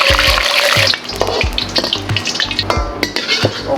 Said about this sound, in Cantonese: 落去爆香我蒜，3粒蒜，慢慢爆，最細火咁樣俾佢爆